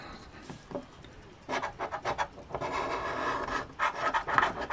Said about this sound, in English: Using, once again, M2M's excellent coin for scratching tickets